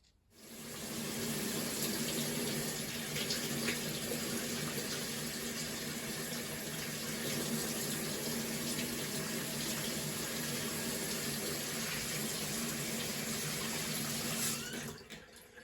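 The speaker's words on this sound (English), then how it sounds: "I'm going to add water, let it sit, and I'll come back and show you the results for that" Water poured steadily from a tap onto peat seed-starting pellets, a continuous, even splashing rush lasting about fourteen seconds, close and alone, fading abruptly at the end.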